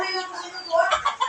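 A moulting rooster or hen gives a few short, soft clucks in quick succession, close by, brief and fairly quiet.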